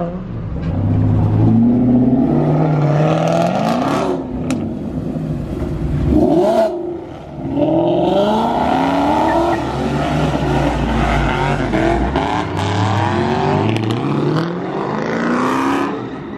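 Loud video game car burnout: engine roar with revving that swells and dips, tyre noise layered over it, steady and close for the whole stretch.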